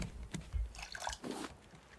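Water is filled in the Raft survival video game, giving soft, quiet drips and liquid splashes in short bursts, with no one talking.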